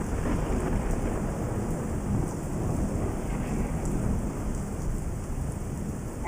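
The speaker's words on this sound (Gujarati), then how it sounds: "નડિયાદ શહેરમાં વહેલી સવારે ધોધમાર વરસાદ શરૂ થયો છે" Heavy early-morning downpour over the city of Nadiad, a dense, loud and constant roar of rain on surfaces with no pauses.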